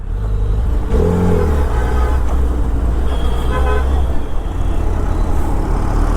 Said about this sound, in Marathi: खूपच ट्रॅफिक दिसते.